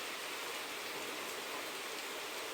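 Heavy rain falling, a dense steady hiss of downpour with no breaks, fairly faint and even across the whole stretch.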